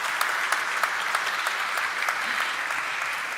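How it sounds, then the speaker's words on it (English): Audience applause at a corporate event for Krssna Diagnostics, a dense and steady clapping from a large crowd that holds at an even level throughout. "Let's have an encouraging round of applause for both of them"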